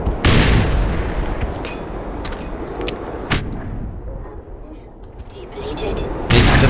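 Gunfire and a grenade blast in the Black Mesa video game, heard as a series of loud, sharp booms and shots scattered across several seconds, with someone talking over them.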